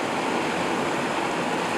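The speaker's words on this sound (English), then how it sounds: "This is the creek in between both lakes." A mountain creek in the Trinity Alps, running between two lakes near Thompson Peak, rushes close by in a steady, full, continuous wash of flowing water with no voices.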